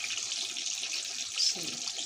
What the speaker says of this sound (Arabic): هزودها شويه ميه